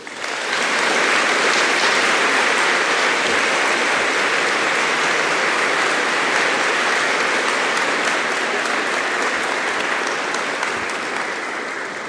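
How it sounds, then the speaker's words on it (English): A large audience at a formal event on European security applauds as the Finnish president is welcomed, producing a loud, dense, sustained roar of clapping that holds steady for about twelve seconds. "judging by the applause that Petr just got"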